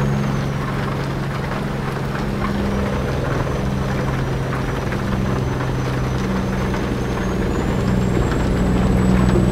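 A Kenworth T800 tanker truck, driven without the clutch, climbs the Alto de Letras pass in Colombia hauling 36 tonnes of gasoline. Its diesel engine drones loud, close and steady under heavy load with a constant low rumble, and no voices are heard.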